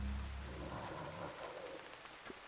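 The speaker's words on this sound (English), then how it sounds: "Sounds like rain" Steady rain falls in the video game Mouthwashing, a continuous soft hiss of drops on a surface with a low rumble fading early on, no voices present.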